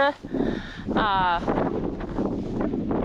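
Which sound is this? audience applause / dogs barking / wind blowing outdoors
wind blowing outdoors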